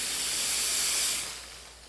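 Carico ProSeries 360 dry steam cleaner releasing a loud, steady blast of hissing steam at close range, which fades somewhat toward the end.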